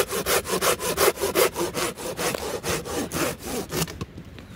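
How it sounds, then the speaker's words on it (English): A Silky pull saw cuts through a dead standing blackwood log, rasping close and loud in an even rhythm of about a dozen strokes before stopping. "Silky saw to the rescue."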